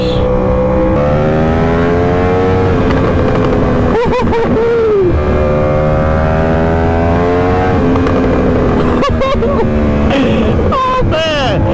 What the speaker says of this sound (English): Oh my gosh, I'm scared to fully pin this throttle.